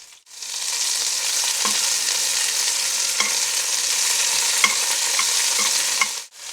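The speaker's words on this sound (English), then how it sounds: "with a pair of tongs, I'll get in there and separate it and give it all a chance to brown on all the surfaces." Beef steak pieces browning in a pot give a steady, loud sizzle, broken by a few sharp clicks and scrapes as tongs separate the meat.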